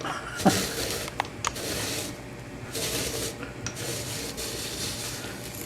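Apple corer slicer pushed down through a whole apple, giving a low continuous rubbing, rasping crunch with a few sharp clicks and snaps as the blades cut through, close and fairly quiet with no talking.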